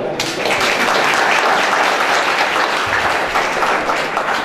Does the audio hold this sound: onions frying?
no